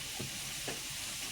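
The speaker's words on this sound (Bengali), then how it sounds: "এখন লাল লাল করে ভাজা হতে থাকবে।" Potatoes frying in hot oil for a duck curry, with a constant loud sizzle and two brief scraping thumps of a spatula stirring the pan.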